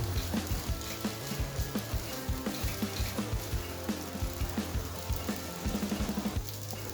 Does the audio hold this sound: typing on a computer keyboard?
no